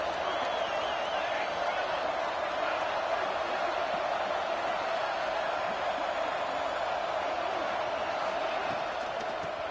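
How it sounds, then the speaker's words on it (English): A steady, dense roar from a packed stadium crowd at a college football game in NCAA 26, holding level throughout as one continuous wash of crowd noise. "Listen to the crowd energy here in the early going."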